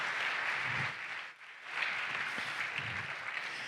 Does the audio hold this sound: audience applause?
yes